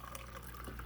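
Water pours onto a cup of raw rice in a pot at a one-to-one ratio, a brief, faint, steady splash and trickle lasting under a second.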